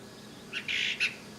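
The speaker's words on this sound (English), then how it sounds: "Little bitty bird, golden-crowned kinglet." A golden-crowned kinglet, a tiny songbird, gives a few very high, thin notes in quick succession, fairly faint over a quiet background near raspberry bushes behind a garage.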